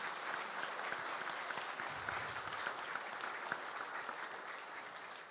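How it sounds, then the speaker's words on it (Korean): Steady applause fills a degree-conferral ceremony hall at Jeonju University, a broad even wash of clapping from a large audience lasting throughout with no voices over it. "여러분의 뜨거운 박수로 이 행사를 시작하겠습니다"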